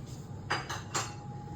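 Purple cabbage salad seasoned with chili flakes is tossed in a bowl, giving three quick clinking scrapes of a utensil against the dish, quiet and close.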